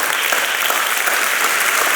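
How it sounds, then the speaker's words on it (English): A conference audience applauds after a talk at a software testing event, steady dense clapping filling the room, close and sustained throughout without pause. "please give a big round of applause to Risko."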